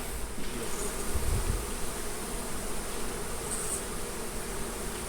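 Honey bees buzzing around an open hive being removed from a structure, a dense steady drone of many bees close by, with a few louder passes as individual bees fly near.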